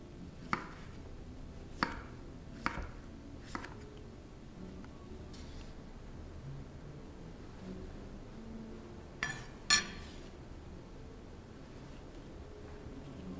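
A knife chops tomatoes on a cutting board in a home kitchen with a few spaced, crisp taps followed by a quick double knock, quiet and close with no talking.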